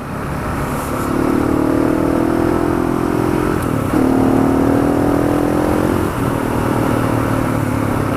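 A KTM 690 Enduro single-cylinder motorcycle ridden off-road at around 60 mph, its loud steady engine drone rising in pitch through two gears with brief dips at each shift, close and continuous with no talk.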